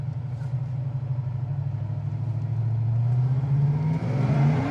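A 1970 Camaro Z28 engine revs hard under acceleration, its loud steady drone climbing in pitch toward the end as the car pulls through a shift around 4,000 RPM.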